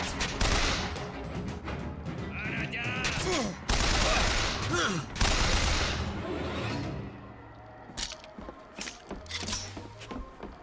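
Gunfire in the video game BioShock Infinite, with bursts of loud shots and rapid volleys through the first half that thin into scattered, quieter reports and game sounds, and voices are heard among them.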